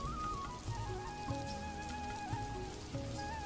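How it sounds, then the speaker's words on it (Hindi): A cartoon sound effect of heavy rain pours down as a dense, steady hiss of drops drumming on surfaces. It holds a constant loudness throughout, with faint tonal music running underneath and no speech. "एक दिन तेज बारिश हो रही थी।"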